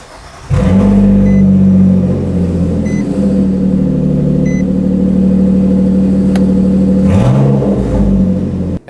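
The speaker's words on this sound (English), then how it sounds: "Now we can start the engine." A 2015-2023 Nissan Maxima 3.5L V6, just fitted with a new fuel pump module, cranks and catches after half a second, then idles steadily and loudly before a brief rev near the end.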